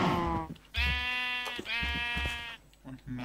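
Sheep in the Minecraft video game bleat in two drawn-out, wavering cries, loud and close, with a short low bleat at the end.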